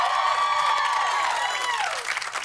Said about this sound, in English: let's give a round of applause to people like Mindy Kaling